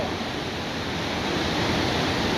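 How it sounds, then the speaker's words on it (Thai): Steady, dense rushing of rain and floodwater flowing along a road, with a constant hiss like heavy rain and flowing runoff, continuous and fairly loud with no voices. "ถนนน้ำไหลเต็มไปหมดเลยค่ะ"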